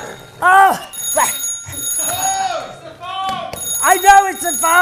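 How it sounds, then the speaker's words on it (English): A telephone rings in a children's clown theatre show, repeated trilling bursts coming loud and close while voices talk and exclaim over it. "I know it's a phone."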